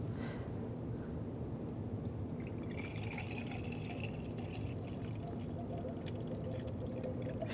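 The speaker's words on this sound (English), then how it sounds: "Take the cap off the coolant reservoir. You want to add the appropriate coolant." Coolant pours into the coolant reservoir of a 2013-2016 Dodge Dart, a steady liquid glug and trickle over low background noise, with brief higher splashes as the fluid fills.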